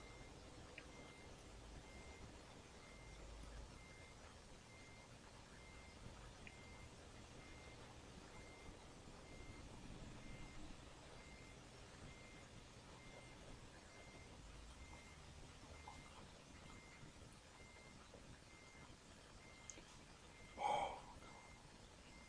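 A truck in American Truck Simulator reverses with a steady run of repeated warning beeps over a low engine rumble and road noise. The beeps continue at a moderate level throughout, with no talking.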